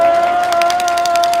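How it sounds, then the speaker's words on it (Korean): At an outdoor election rally in front of Seoul City Hall, a crowd claps and cheers in a short burst beneath a steady tonal hum from the sound system. "오태양 후보께 큰 박수 한번 부탁드리겠습니다"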